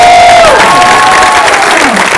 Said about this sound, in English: let's give a big round of applause to the star of the world